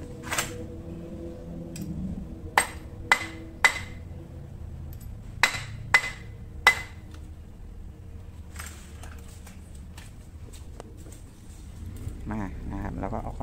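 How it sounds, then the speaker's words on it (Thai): A rubber mallet taps a bolt into place on a Ryobi Adventure 120 fishing reel, giving about seven sharp, close knocks in irregular bursts over quiet background noise, with some handling sounds afterward. "เอาค้อนยางมาทุบมันหน่อยนึงแกน็อตมันเด้ง"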